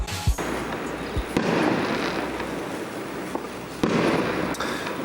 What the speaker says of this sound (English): Fireworks at 6 a.m. in a peaceful Chinese village.